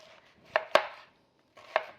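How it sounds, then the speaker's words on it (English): A knife thinly slices rinsed leeks on a cutting board, giving four crisp, distinct chops in two clusters with short pauses between, close and clear with no talk. "now we are going to thinly slice them"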